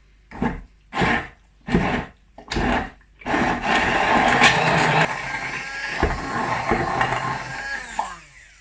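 Dates and lemon juice blended into paste in a small appliance: four short whirring pulses, then a longer continuous grinding run that slows and stops, close and loud, with no talk.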